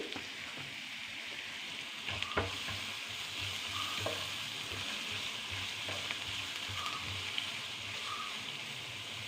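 Bitter gourd fries with a pinch of turmeric while being stirred, giving a soft steady sizzle with scattered spoon scrapes and taps against the pan.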